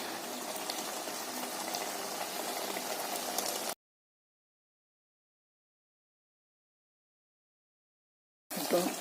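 Aviyal, a mixed vegetable curry, boiling in a pot, a soft, close bubbling simmer for a few seconds that cuts to silence and then briefly returns, with no voices.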